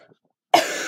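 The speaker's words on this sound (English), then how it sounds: "I'm sorry for the coughing." A woman who is sick gives a single harsh cough, close and loud, after a brief moment of near silence.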